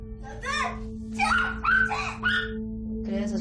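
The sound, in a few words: dog barking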